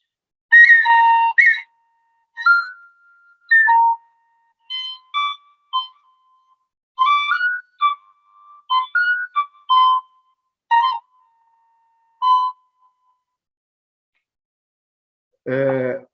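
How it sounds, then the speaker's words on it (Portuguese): An indigenous wooden flute with five finger holes and no rear hole plays a series of short, clear, high notes. The notes are separated by silences, and a brief low sound follows at the very end. "Uma outra flauta indígena também, ela só tem 5 furos, não tem um buraco aqui atrás"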